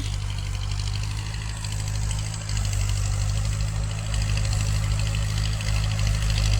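A tractor engine runs steadily at a construction site with hydraulic equipment in use, a loud, continuous low rumble and vibration throughout with no talk.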